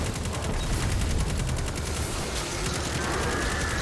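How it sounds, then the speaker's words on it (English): A fusion rifle in a video game fires repeatedly, a loud, dense burst of rapid energy shots pulsing steadily over a noisy battle backdrop, with no voices. "Oh, this fusion rifle wrecks"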